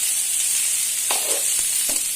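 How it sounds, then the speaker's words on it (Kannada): Garlic, cumin and chopped onion frying in oil in a pan, a constant bright sizzle close by, with a few brief stirring scrapes near the end. "ಚೆನ್ನಾಗಿ ಗೋಲ್ಡನ್ ಕಲರ್ ಬರೋವರೆಗೆ ಫ್ರೈ ಮಾಡಬೇಕು."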